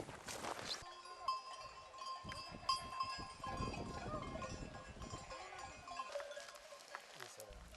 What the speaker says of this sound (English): The shepherd shows up with a flock of sheep before I know it.